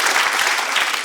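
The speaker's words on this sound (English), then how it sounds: "people will clap when you say that you've been doing them for 28 years" A comedy show audience bursts into applause, a loud, dense wash of clapping from many hands filling the short moment, with no talk over it.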